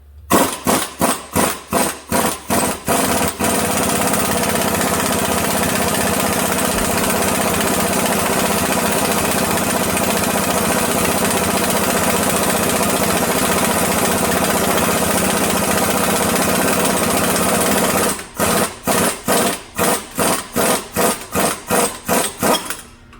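An impact gun drives an OTC hub grappler to press the wheel hub flange out of a 2015 Ford Focus. Loud, rapid hammering pulses start the clip, a long steady rattling run fills the middle, and more distinct pulsing blows end it.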